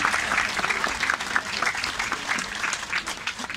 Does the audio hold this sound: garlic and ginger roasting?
no